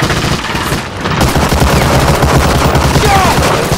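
Sustained machine gun covering fire on Omaha Beach in the World War II shooter Medal of Honor Allied Assault, dense rapid bursts with loud battle noise and booms running continuously throughout, no speech.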